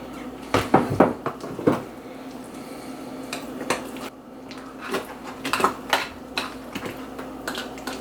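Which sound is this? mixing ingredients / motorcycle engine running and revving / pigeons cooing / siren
mixing ingredients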